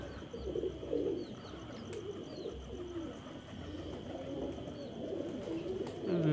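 Pigeons coo softly and repeatedly nearby, including a female settling on a perch, with a few flutters of wings as birds settle, over steady outdoor background noise.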